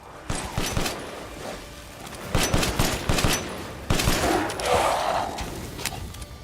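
Gunfire in a Resident Evil game: bursts of close, loud shots in rapid clusters separated by brief pauses, sharp cracks repeating across the stretch with no talk.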